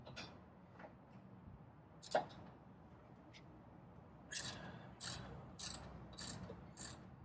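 A socket wrench with a 13 mm socket ratchets a bolt loose on a sixth-generation Ford Bronco radiator; after a faint clink or two, a run of crisp, close ratcheting clicks repeats in quick, even bursts.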